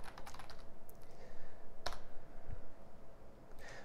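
Rapid typing on a computer keyboard sounds close and steady, a dense run of quick key clicks with no speech.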